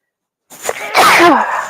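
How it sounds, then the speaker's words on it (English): A single close sneeze, a short sharp intake followed by a loud burst that trails off, with no other sound around it. "I'm getting ready to sneeze."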